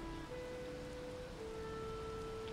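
Steady rain falls inside a house in Valheim, a soft even hiss of droplets held at constant level for a couple of seconds, with faint tonal music lines running beneath and no voices.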